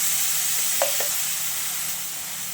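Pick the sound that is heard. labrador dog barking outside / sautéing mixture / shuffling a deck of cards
sautéing mixture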